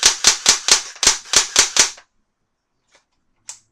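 An AK47 Kalashnikov airsoft gun, part metal and part plastic, fires on semi-automatic, giving about eight sharp close snaps in a quick, fairly even sequence. A faint click or two follows after a silence.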